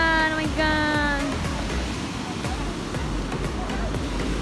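A river waterfall pours with a steady, broad rushing roar, close and constant, while a voice briefly exclaims over it at the start.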